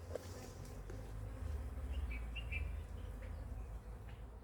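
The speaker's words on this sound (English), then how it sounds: "Those are the bees pollinating the carob flowers." Bees buzz faintly around flowering carob trees outdoors, a soft steady hum joined by a few distant bird chirps.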